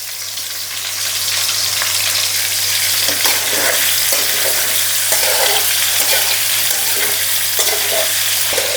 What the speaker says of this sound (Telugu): ఈ బొమ్మిడీలను కొంచెం నూనెలు వేంపుకోవాలి